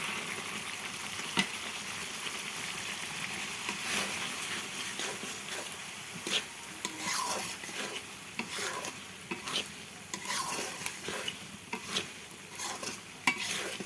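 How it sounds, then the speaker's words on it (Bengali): Chana dal being stirred with spices in a pot for a Bengali ghonto, a steady scraping stir over a soft sizzle of oil, with rhythmic spoon strokes repeating through to the end. "এরকম করে আমি নাইড়ে চেড়ে নেব।"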